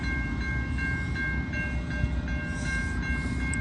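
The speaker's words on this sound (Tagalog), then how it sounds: "dadaan yung tren sa pinakagitna" A train passes at a distance, a steady rumble with a faint repeating tonal ring, moderately quiet and without voices.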